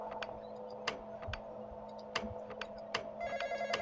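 An old-style telephone bell rings repeatedly in the Roblox horror game The Intruder, sharp metallic rings in evenly spaced bursts over a steady low electronic hum, fairly quiet with no talking.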